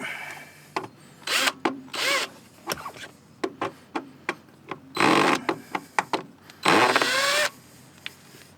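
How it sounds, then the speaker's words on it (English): A power drill drives screws while fitting a diesel heater under a vehicle's driver seat: repeated short whirring bursts, some longer sustained runs with rising pitch, separated by quiet pauses, loud and close. "I can see daylight, so I don't think I'm screwing into anything structural"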